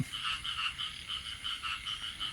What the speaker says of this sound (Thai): ได้นอนฟังเสียงเขียดเสียง กบ ไม่มีกบนะครับมีแต่เขียดออฟแอบออฟแอบออฟแอบ